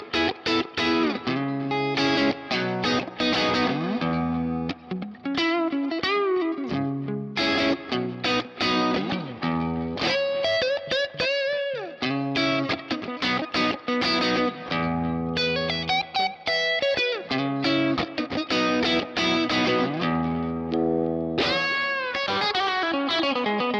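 An electric guitar runs through a Kemper Beauty OCD overdrive profile with a British Vox-type character, playing a long, busy stretch of driven chords and riffs with dense, crunchy distortion at steady loudness, and no one speaks.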